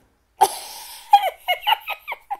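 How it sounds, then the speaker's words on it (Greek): Minecraft chickens cluck in the video game, a sharp opening squawk and then a quick string of five or six short clipped clucks, loud and alone against silence. "Κότα! Κι άλλη κότα!"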